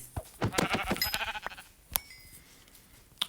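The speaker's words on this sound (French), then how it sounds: "il y a trop de moutons" Sheep bleat in the video game From The Fog, several overlapping wavering cries close by in the first second and a half, followed by a sharp knock and a quieter stretch, with no talking.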